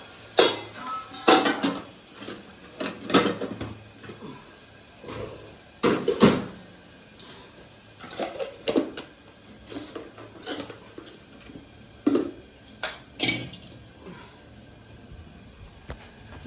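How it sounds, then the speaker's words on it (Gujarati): Metal pots, pans and utensils clatter and scrape in bursts while rice is tempered in a cooking pot, with people talking now and then in the background. "ભાત વઘારી દીધા."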